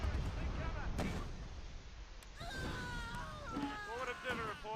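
Artillery and mortar fire in the wartime strategy game Close Combat: Last Stand Arnhem, with a few dull thumping impacts beneath a voice talking throughout.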